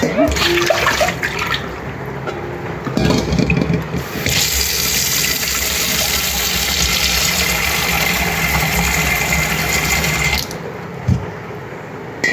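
Market groceries are washed by hand under running tap water in a home kitchen; a steady, loud rush of flowing water dominates, with brief breaks and handling splashes near the start and end, and some voice underneath.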